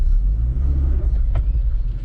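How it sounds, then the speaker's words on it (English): A lifted Honda CR-V RD1 driving offroad in the Ormeau Hills gives a continuous low exhaust rumble from inside the cabin, steady and heavy throughout, with a faint brief knock partway through. "that sounds like my exhaust."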